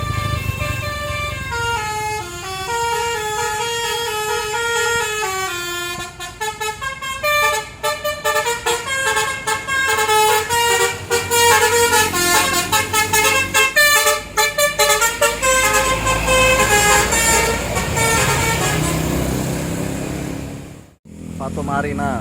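Tour buses at the Borobudur temple exit sound their musical telolet horns, loud melodic multi-note horn tunes playing one after another almost continuously with shifting pitches, nearby, with engine noise underneath.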